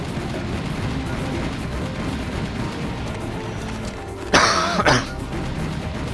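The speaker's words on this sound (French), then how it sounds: "maintenant je tousse" A single short, harsh cough bursts out late over steady game sound and gunfire-like noise from a shooter game, close to the microphone and brief.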